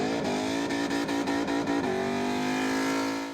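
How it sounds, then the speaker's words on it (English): Hoons doing burnouts on suburban streets in New Norfolk: a car engine revving in repeated sharp bursts, then settling into a sustained high whine with screeching tyres, fairly loud and close, with no voices. "Cars screeching as hoons burn rubber on suburban streets"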